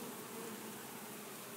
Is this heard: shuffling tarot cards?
no